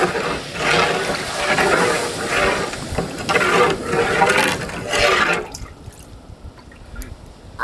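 Water is poured into a large pot of tuna fish mandi biryani cooking outdoors, a continuous close splashing gush in pulsing waves that stops abruptly near the end.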